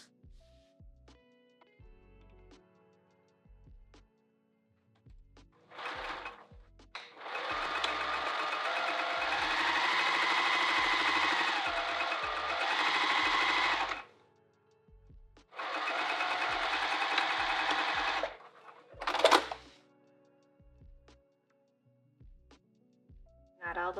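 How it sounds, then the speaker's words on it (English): A sewing machine stitches a handbag in two long bursts of steady, fast whirring, with a brief third burst after them; quiet speech and handling sounds fill the gaps between runs. "All right, so now let's sew."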